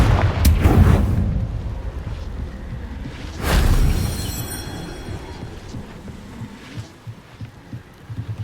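A Confringo explosive spell blasting in Hogwarts Legacy: a loud booming burst at the start, a second heavy blast about three seconds later with a ringing tail, then fading rumbles and softer thuds.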